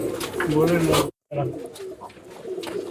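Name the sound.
Madrasi pigeons cooing in a loft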